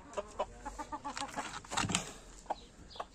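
Farmyard chickens and a rooster cluck in a quick series of short, close calls, with a brief burst of flapping wings midway and a couple of isolated clucks at the end.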